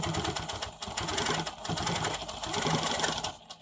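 A Quilt Maker Pro 20 quilting machine stitches pebble shapes at about 13 stitches per inch, its steady fast needle chatter running close and loud with brief slowdowns and restarts.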